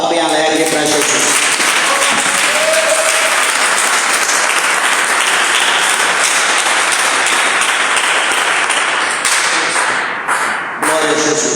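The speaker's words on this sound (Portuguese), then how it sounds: "dê uma salva de palmas bem alegre para Jesus" Congregation in a church clapping for Jesus, a sustained, loud, dense round of applause filling the room for about ten seconds before tapering off, with brief voices near the start and end.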